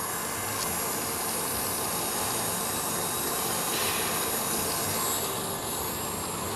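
An electric mixer at top speed whisks egg whites for meringue, producing a steady, dense whirring drone with no breaks and no voices.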